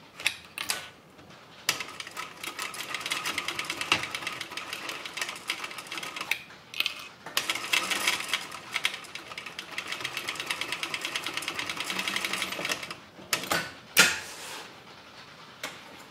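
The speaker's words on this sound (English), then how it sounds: "Now I'm going to do one more stitching there, one more seam," A Techsew 2750 cylinder arm sewing machine stitches a tote bag seam in steady mechanical bursts, pausing briefly between runs, close and moderately loud with no talking.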